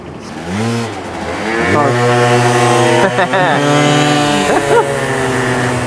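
A 50cc Aprilia SR50 scooter engine revs up in rising buzzy sweeps, then bogs and stutters, climbing and dropping in pitch several times, loud and close.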